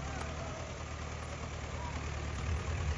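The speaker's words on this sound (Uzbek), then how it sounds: "Traktor chiqarjanlar." A tractor engine runs at an outdoor horse-riding kopkari gathering, a steady low rumbling idle heard from close by, with muffled voices in the background.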